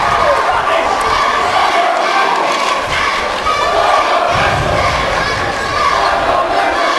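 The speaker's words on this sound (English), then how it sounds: "Columbine crowd getting into it as well." Loud, dense crowd roar fills a Columbine high school gym during a boys basketball playoff game against Arapahoe, sustained shouting and cheering with brief dips, a commentator's voice riding over it.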